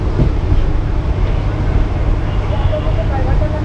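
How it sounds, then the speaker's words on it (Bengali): A passenger train from Bangaon to Dum Dum rumbles along in a loud, continuous roar of wheels and engine, with muffled voices in the carriage. "আমরা এই যে বনগাঁ থেকে ট্রেন ছেড়ে দিল দমদমের উদ্দেশ্যে"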